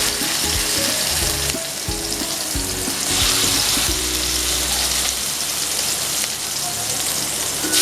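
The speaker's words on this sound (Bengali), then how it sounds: "এবার আমি ওই তেলের মধ্যেই মাছগুলো এবার ভেজে নেব।" Bhetki fish pieces fry in hot oil in a home kitchen, giving a loud, continuous crackling sizzle with a few low knocks and clatters from handling in the pan.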